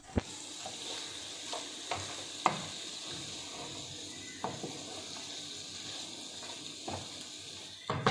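Kaju chicken fries in a pan with a steady sizzle, broken by scraping stirs and occasional knocks of the spoon against the pan.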